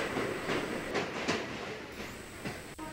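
A Kolkata Circular Railway train crosses the Sheel Lane rail bridge, with a close, continuous rattling rumble, rhythmic wheel clatter and brief metallic squeals over the steel structure.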